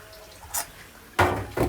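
Tengra fish being washed in water: a brief splash, a short pause, then two louder sloshing bursts of water close by, with no voices.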